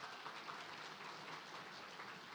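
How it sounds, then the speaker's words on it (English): Audience applause fills the room as a dense, even wash of clapping hands, sustained throughout at moderate level with no voices. "Let's give Cooper a big round of applause."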